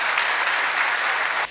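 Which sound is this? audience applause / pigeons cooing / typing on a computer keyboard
audience applause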